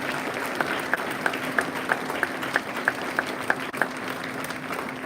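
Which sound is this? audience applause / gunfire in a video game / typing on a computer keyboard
audience applause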